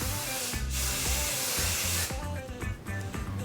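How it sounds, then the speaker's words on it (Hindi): Hair spray is misted gently onto curls in short hissing bursts, the close airy spray pausing briefly between puffs while a low steady hum runs underneath. "मैं इसको जेंटली बस ज़रा सा स्प्रे कर रही हूँ"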